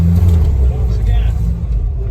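A K20-swapped Toyota TA22 engine revs with a loud, steady low rumble through about two seconds, with voices faintly audible underneath.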